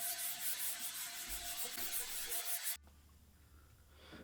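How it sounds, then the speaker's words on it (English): Speaker cabinet from a vintage JBL L100 being hand-sanded with folded 280-grit sandpaper, giving a soft, continuous rubbing hiss that cuts off abruptly partway through, then faint room tone. "I'm going to grab a folded up piece of sandpaper and just go up and down just to get any swirl marks out"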